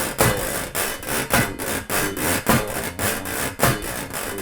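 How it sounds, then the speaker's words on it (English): A washboard is scraped in a steady rhythmic pattern, about two strokes per second, each rasp loud and close with no voices. "whenever you go to play rub board"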